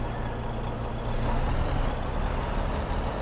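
A truck's air brakes in Farming Simulator 22 give a loud, continuous hissing blast over a low engine rumble, with no talk.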